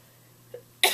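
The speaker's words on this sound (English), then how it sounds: "I'm probably going to be coughing almost the whole time" A single close, loud cough bursts out near the end after a short quiet breath.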